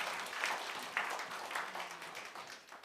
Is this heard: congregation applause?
yes